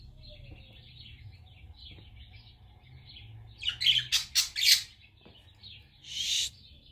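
A baby sparrow chick being hand-fed indoors gives a cluster of loud, rapid squawks near the middle and another harsh burst at the end, close to the mic over a low background hum.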